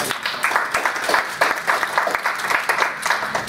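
Lively applause from a crowd at a community sustainability talk, welcoming the next speaker with many hands clapping in a steady, textured burst that continues throughout.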